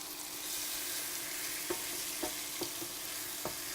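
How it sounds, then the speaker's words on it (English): Onions fry in melted butter with a soft, steady sizzle, and a few light taps of a utensil against the pan sound near the end. "And as this butter is melting, we're going to add our onions that we cut up earlier in the show."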